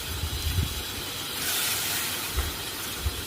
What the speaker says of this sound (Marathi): तर इथे बघा, पुन्हा पाणी घालून घेते मी.